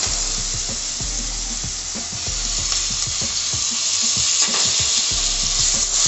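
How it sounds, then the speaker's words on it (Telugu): Tomatoes and green chillies fry in a pan as they are stirred, a loud close sizzle with repeated spatula scrapes and clacks in an irregular rhythm. "ఇది ఒకసారి కలిపేసుకొని టమాటా వేసేసుకుందామండి. ఇప్పుడు టమాటా వేసేద్దాము."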